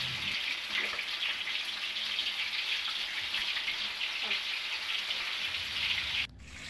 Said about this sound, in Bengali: এবার আমি দিয়ে দিচ্ছি তেলের মধ্যে ফুলকপিগুলো।